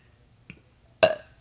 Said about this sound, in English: I love big burping.